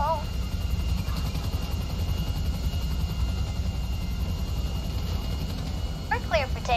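Steady broadband engine roar of an airplane taking off in a video game, loud and continuous throughout, with a voice and faint chirpy effects rising near the end.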